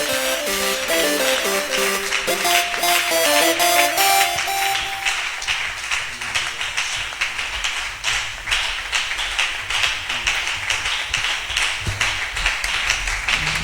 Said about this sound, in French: nous apprécions le Seigneur par les acclamations